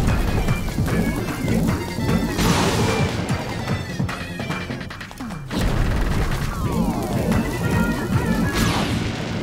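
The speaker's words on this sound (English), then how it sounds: "Just place down bombs." Bombs explode during a boss fight in the Face Shrine of Link's Awakening on Switch, with repeated crashing booms over busy game music and sound effects.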